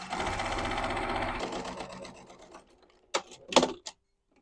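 A sewing machine quilts stitching lines on a fabric device sleeve, with a steady close rapid stitching whir that stops, followed by a few louder mechanical clunks and clicks.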